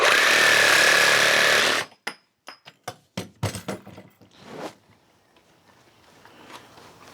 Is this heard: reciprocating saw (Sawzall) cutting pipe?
yes